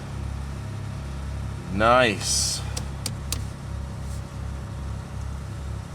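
A car's engine idles after an extreme cold start, a steady low rumble running throughout, with a brief voice and a rising whistle-like sound over it near the start.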